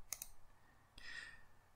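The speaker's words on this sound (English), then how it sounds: "I'm going to click this button." A computer mouse clicks a button in Blender software: a couple of quick, faint, close clicks in a quiet room, followed by a soft second tap.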